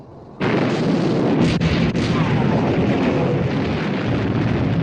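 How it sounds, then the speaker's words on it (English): Heavy naval guns from battleship turrets open fire in a 1960 war film, a sudden loud broadside that swells into a sustained roaring rumble with further booming shots rolling in over it. "All turrets ready to open fire, sir. Open fire!"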